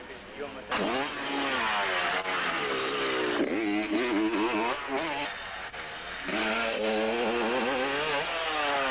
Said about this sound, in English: That was a good motorcycle, that YZ.